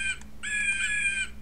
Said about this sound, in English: and the Blue Jay squawks